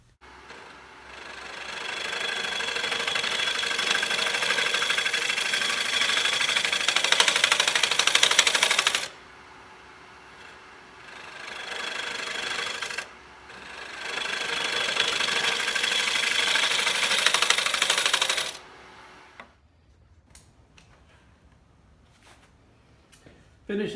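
A wooden bowl is sanded on a woodturning lathe, a steady rough whir and rubbing that runs for about eight seconds, pauses, then resumes for a similar stretch before dropping to a few faint knocks.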